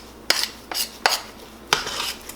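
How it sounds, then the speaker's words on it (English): Gluten-free baking mix being stirred in a bowl, four distinct scraping clinks of a utensil against the bowl at a slow, uneven pace, close and fairly quiet with no voices. "We're going to mix it really well"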